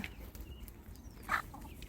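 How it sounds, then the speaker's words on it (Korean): Chickens let out of their coop in the morning at a countryside home, with faint background ambience and one brief, louder cluck near the end. "아침에 닭들이에요."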